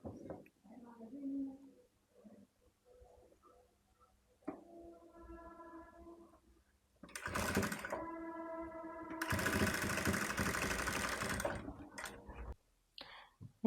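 A sewing machine stitches lace and a frill onto a baby frock, with quieter tonal whirring first, then two louder, longer bursts of fast stitching close by, amid faint soft sounds.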